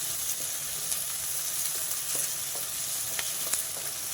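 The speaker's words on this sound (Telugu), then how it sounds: "కొంచెం ఉప్పు వేసుకున్న ఉల్లిపాయలు తొందరగా ఏగిపోతాయి" Onions fried with salt, a constant, even sizzle and faint crackles, a steady close hiss with no voices.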